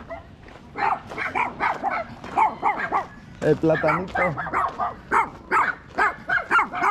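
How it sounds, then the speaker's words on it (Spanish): A small dog barks repeatedly in quick, close yips on a hiking trail, heard clearly alongside people talking nearby. "Mira el perrito, profe."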